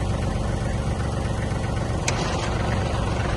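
A Kubota GL260 mini tractor engine runs in reverse gear, a steady close mechanical drone with a constant vibrating rumble and one brief higher click partway through.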